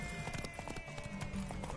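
Horse hooves clip-clop in The Witcher 3, a quick run of close, distinct hoof strikes over a short stretch, with faint voices and game ambience behind.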